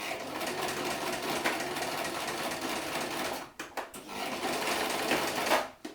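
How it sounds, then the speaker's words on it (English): A sewing machine stitching down the fabric sides of a book cover made from recycled fabric scraps, running loud and continuous with a brief stop-start stutter midway before carrying on. "So all you're doing is just stitching your sides down."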